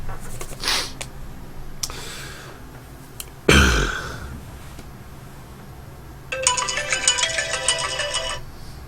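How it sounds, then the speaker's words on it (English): A phone ringtone plays a bright, repeating electronic melody, starting loud and sustained for a few seconds after scattered clicks, thuds and faint background game sounds. "Oh, gotta pick up this phone."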